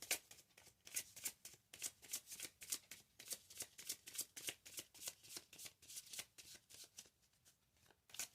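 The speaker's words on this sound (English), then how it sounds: "I'm going to be shuffling on camera" Tarot cards are shuffled continuously in a rapid, rhythmic riffling patter, close and fairly quiet, with no voices.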